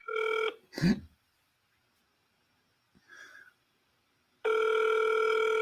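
Electronic telephone ring tones heard during a phone call, a short burst at the start and a long steady ring at the end, separated by silence, a brief breathy noise and a faint mid-clip blip.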